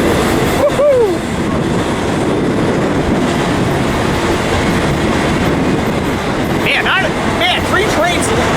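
Freight train rolling past close by near Barstow, California, a loud, continuous rumble and clatter of cars, with brief shouting voices near the start and again toward the end.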